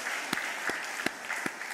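Applause from a church congregation during a Sunday morning service at Daegu Seomunro Church, a soft, diffuse patter of many hands with a few sharper claps standing out at regular intervals, fairly distant and steady.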